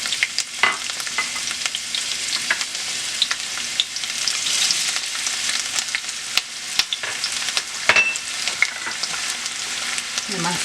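Chopped yellow onion fries in vegetable oil in a pan on a stove, giving a steady, bright sizzle with occasional clicks and scrapes from stirring and no talking.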